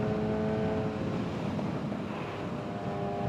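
A motorcycle engine drones steadily while riding, mixed with heavy wind buffeting picked up by a mic inside a helmet; the sound is loud, continuous and rumbling, with no break.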